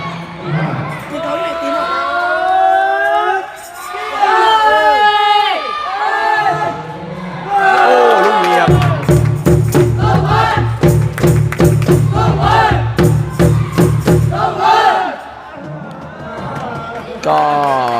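Spectators, many of them young voices, cheer and shout together at a boys' under-12 sepak takraw match, loud and sustained crowd noise with rhythmic chanting bursts in the second half.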